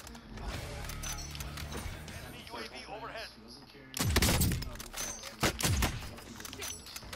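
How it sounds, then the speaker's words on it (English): Call of Duty Warzone gameplay with mechanical game sounds under talk, then sharp bursts of rapid gunfire that break in loudly in the second half. "Getting shot at from left side."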